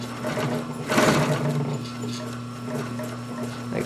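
A Singer 147-81 industrial chainstitch sewing machine set to 10 stitches per inch runs slowly with the clutch feathered, a steady humming motor drone with a soft rhythmic mechanical chatter, close and continuous.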